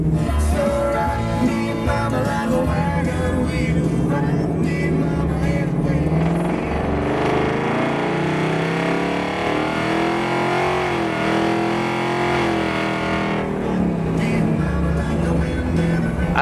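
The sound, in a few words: exhaust of a custom classic Mustang's Coyote 5-liter engine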